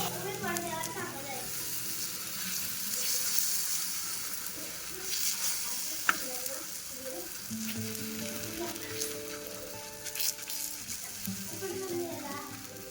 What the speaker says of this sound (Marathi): मी आता हे थालीपीठ टाकून बघते